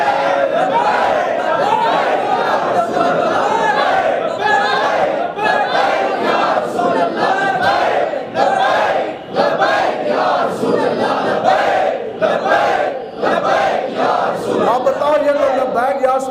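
A large crowd chants a religious slogan in unison at a gathering. Voices are loud and massed, with repeated rising shouts over a continuous roar.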